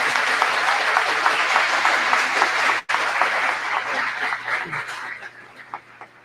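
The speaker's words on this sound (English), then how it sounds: "So can I get a really big round of applause for Jason?" A crowd applauds loudly and steadily, with a brief break midway, then the clapping gradually thins and fades out.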